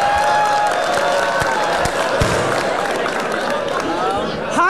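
Crowd at a Fliptop rap battle in Cebu, loud cheering, whooping and clapping that keeps up steadily throughout, with voices mixed into the noise.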